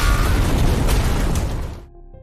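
A bomb explosion: a loud, sustained broadband roar that holds for nearly two seconds, then cuts off abruptly into a quieter low tail.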